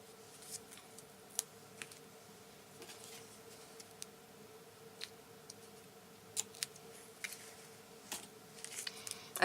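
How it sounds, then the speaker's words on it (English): Large pair of scissors cutting paper at a craft table, producing soft irregular snips and crisp clicks spread across quiet room tone, fairly close and never loud. "that was like a really huge pair of scissors for a tiny little job."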